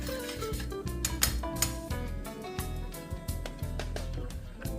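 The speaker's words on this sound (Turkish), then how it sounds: "Ve karıştırmaya devam ediyorum. Peynir eriyinceye kadar karıştıracağım." A utensil stirs and scrapes around a pan of melting cheddar cheese sauce, giving continuous clinking and scraping taps in an irregular rhythm, close up with no talking.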